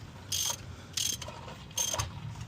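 Ratchet tightening the drain plug on a VW/Audi EA211 five-speed manual gearbox, three short bursts of rapid metallic clicking separated by pauses, close and fairly quiet.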